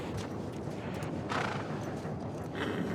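A horse whinnies in The Last of Us Part II amid a dense, continuous rumble, with soft hoof clops mixed in throughout the short stretch.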